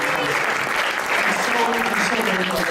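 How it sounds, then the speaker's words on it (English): Sustained audience applause, dense and even throughout, with crowd voices and cheers blended into the clapping. "Can everyone please give another round of applause to our"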